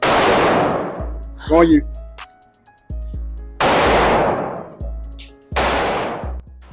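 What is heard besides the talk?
pistol shots fired at 15 yards during qualification practice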